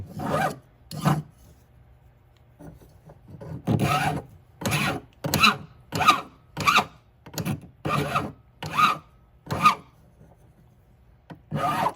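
A hand file rasps across a sand-cast metal piece in a steady run of about a dozen loud scraping strokes, each a short burst with brief pauses between, close up and alone.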